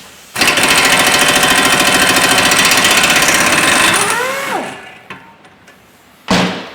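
A power tool, likely an impact gun, hammers loudly and steadily for several seconds on an 18mm bolt holding a car's rear trailing arm, then winds down, followed by a few clanks and a short final burst.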